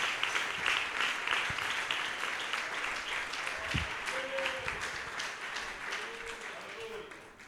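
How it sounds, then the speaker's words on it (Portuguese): Church congregation clapping joyfully during a service, a sustained stretch of rhythmic clapping with voices and some sung or spoken tones underneath, slowly easing off. "com as palmas muito alegre para o nosso Jesus"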